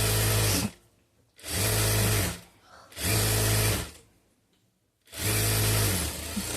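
An electric sewing machine stitches a folded half-inch hem on a plain blouse, running in four loud, even motor bursts of about a second each, separated by short pauses, with no voices.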